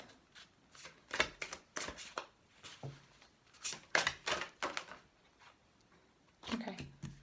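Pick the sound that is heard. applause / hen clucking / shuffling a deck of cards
shuffling a deck of cards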